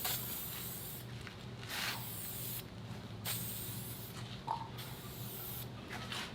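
Adhesive primer for plastic sprayed from an aerosol can onto truck covers for a rusty Ford F-150: several soft hissing bursts of spray with short pauses, fairly quiet and close.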